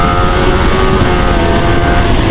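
A Kawasaki ZX25R four-cylinder sport motorcycle engine running loud and close, a dense steady exhaust roar held throughout without pause.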